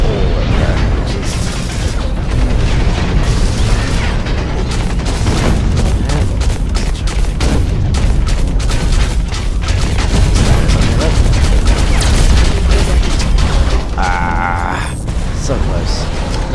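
Gunfire and explosions from the mech shooter game Hawken, a dense, loud, continuous barrage of shots, booms and mechanical clatter filling the whole stretch.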